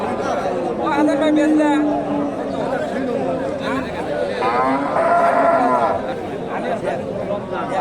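A young Friesian cow moos a few times at Dakumara cattle market, long drawn-out calls mixed with nearby conversation and general crowd chatter.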